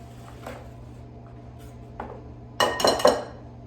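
An egg goes into mashed banana in a bowl for air fryer banana bread muffins, giving a few soft taps early, then a cluster of louder clinks and knocks near the end as the shell cracks and drops against the bowl.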